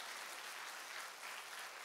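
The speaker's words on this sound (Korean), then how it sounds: "이때는 주님께 영광의 박수가 나와야 되는 거야." A church congregation at a revival service breaks into sustained applause, dense rapid clapping from many hands spread evenly through the room, moderately distant and without talk over it.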